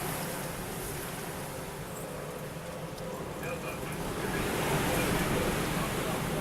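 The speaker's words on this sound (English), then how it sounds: "Probably hear the wind in the background." Steady wind storm roaring across the open Nevada desert near Cal-Nev-Ari, about 15 miles south of Searchlight, a broad continuous rush with gusts building louder toward the end.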